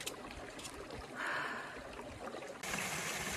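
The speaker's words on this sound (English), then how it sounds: "It's a waterfall with ice." Steady rushing water with a broad hiss from an icy waterfall in a canyon valley, continuous throughout and growing brighter near the end, like a nearby cascade.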